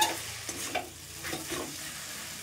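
Sago pearls with a little salt are stirred in a pan, giving soft scraping and rustling strokes with a faint sizzle, quiet and close, without any talking.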